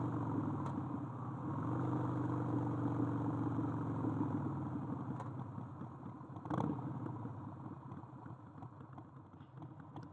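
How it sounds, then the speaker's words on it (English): A Harley-Davidson Sportster engine idles steadily with a deep, rumbling throb, close by, holding a constant low note and easing slightly quieter toward the end. "that's what a motorcycle sounds like."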